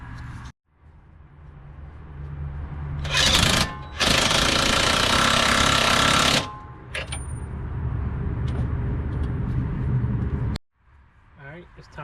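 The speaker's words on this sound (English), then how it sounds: "I'm going to get my impact gun" An impact gun hammers at a lower control arm ball joint bolt on a 2003-2007 Infiniti G35, with two loud rattling bursts close by amid shop noise and some talking.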